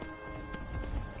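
Horse hooves run in a quick, steady clip-clop rhythm in the Skyrim video game, a continuous low thudding beat under faint game ambience, with no talk.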